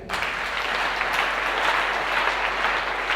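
A church congregation at a community seminary bursts into loud, sustained applause that fills the room evenly for a few seconds, with a faint murmur of voices beneath the clapping.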